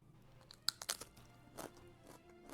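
Several sharp, close crunches from biting into a quarter-inch-thick homemade potato chip, followed by softer chewing in a quiet room.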